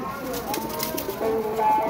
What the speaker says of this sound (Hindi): ऐ सामने खड़ा है जी कबूतर, टैडी कबूतर जानदार है